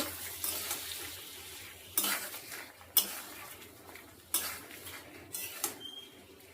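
Potatoes being stir-fried with tomato, turmeric and spices in a pan for a light Bengali fish curry, with a steady soft sizzle under sharp intermittent clinks and scrapes of a spatula against the pot.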